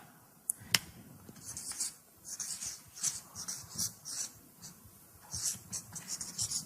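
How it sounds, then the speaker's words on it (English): A marker squeaks and scratches across a board in short, uneven strokes, with taps and brief pauses between words being written, close and fairly quiet in an indoor room. "I'll write it up here."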